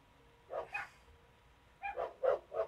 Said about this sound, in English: Our dogs are barking outside.